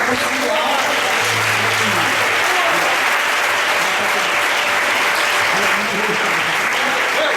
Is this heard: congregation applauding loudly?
yes